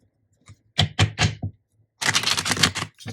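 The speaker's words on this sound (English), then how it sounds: "Let's do one more shuffle." Tarot cards being shuffled up close: three quick riffling bursts, a short pause, then a longer, denser stretch of papery shuffling and a final brief flick.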